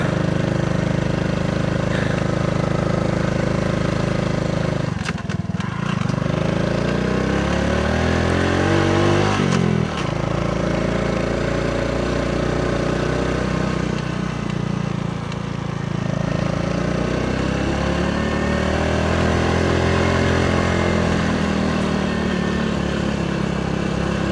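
Motorcycle engine on a solo ride through mountain trails toward Baguio, a close, continuous drone whose pitch rises and falls as the rider throttles and eases off.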